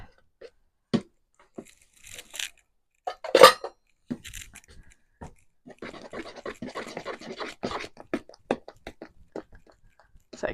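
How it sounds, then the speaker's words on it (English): A spoon scrapes and taps around a bowl while egg whites are folded into a lemon delicious pudding batter, with irregular close scratches and clinks and a sharp knock partway through. "So keep stirring it until all those whites are in."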